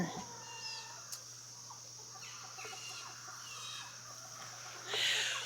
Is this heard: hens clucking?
yes